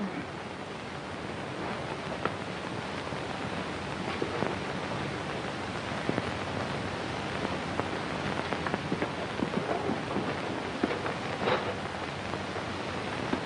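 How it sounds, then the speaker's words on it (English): Steady rain falls in a dense, continuous patter, with scattered louder drops striking nearby surfaces throughout. "The rain ought to let up soon."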